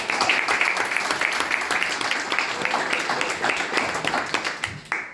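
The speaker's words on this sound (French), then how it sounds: "Applaudissez encore." Crowd applause at a graduation ceremony honoring a new doctor, a dense steady clapping from many hands filling the room and cutting off near the end.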